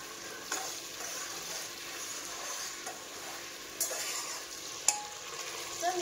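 Tomato and onion fry in a home kitchen pan, giving a continuous crackling sizzle with occasional louder clinks and scrapes from stirring and no talking.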